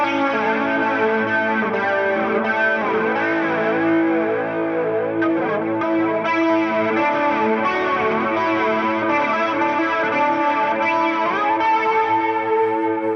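Electric guitar played through a Fender Tone Master Pro, chiming through chorus, echo and light distortion, a steady, shimmering melodic line that rings out alone and up close for the whole stretch.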